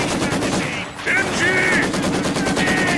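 Machine gun fire in the Company of Heroes 2 World War II strategy game, loud continuous rattling bursts of automatic shots with battle noise, mixed with shouted in-game voices.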